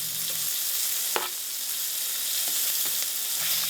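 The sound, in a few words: stirring pan-fried smelts with green onion sizzling in pan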